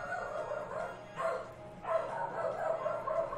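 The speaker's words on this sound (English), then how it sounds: "And my dog's going crazy." A dog barks in bursts at a distance indoors, several sharp excited barks spread across a few seconds over a faint room background.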